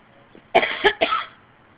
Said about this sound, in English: I've got a tickle cough.